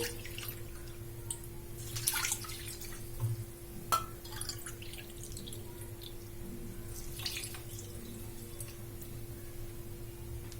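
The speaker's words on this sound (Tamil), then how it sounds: "இதே கப்புக்கு ரெண்டு கப் அளவு தண்ணி சேர்த்துக்கலாம்" Water trickling and dripping as it is poured into a pan of jaggery, a soft, steady liquid pour with occasional splashy drips, fairly faint and heard alone.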